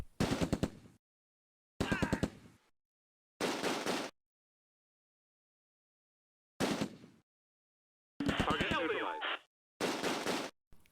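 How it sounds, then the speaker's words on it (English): A .30 caliber machine gun firing in the Close Combat: A Bridge Too Far war video game, six loud rattling bursts of rapid shots separated by silent gaps. "The 30 caliber machine gun opens up"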